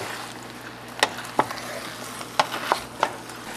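Adobo meat sautés in a pan with a soft, steady sizzle, broken by several sharp clacks of a utensil against the pan at uneven intervals, and nobody speaks.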